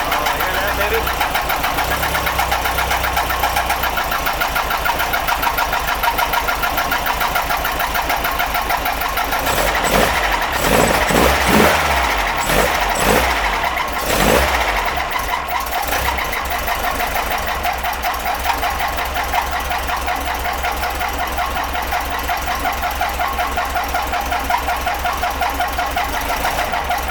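A buggy engine idles with a rocker arm fault, producing a steady mechanical ticking and clatter throughout and a brief louder revving stretch in the middle, while someone talks over it.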